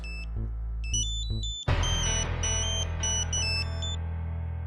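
A phone rings in a Hindi TV drama scene: a repeating high electronic ringtone of bright beeping tones, joined midway by a loud, sustained low swell of music beneath the continuing rings.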